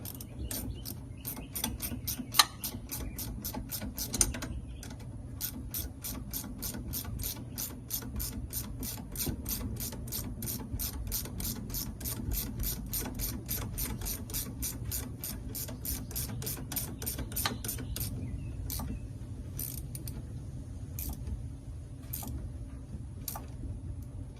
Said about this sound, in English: Tighten bolt down.